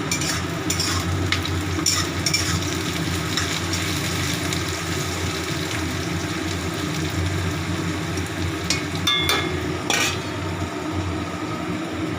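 Spice-marinated food coated in yogurt, ginger, garlic, cumin, coriander and dried chilli powder sizzles and fries steadily in a pan, a continuous crackling hiss with occasional stirring and utensil scrapes, no talking.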